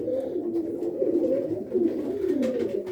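Fancy pigeons in a coop give a steady run of low, throaty rolling coos, close and continuous, with faint rustling in the background.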